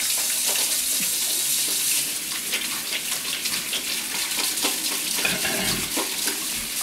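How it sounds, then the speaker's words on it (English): Hands are washed under a running tap, a steady close rush of water with small splashing changes as the hands move through the stream. "I'm just going to wash my hands"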